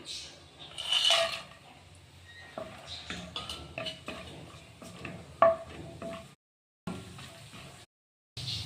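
Small-cut cashews and almonds frying in a pan for wheat flour halwa, a light sizzle under the clinks and scrapes of a spoon against the pan, with brief silent gaps.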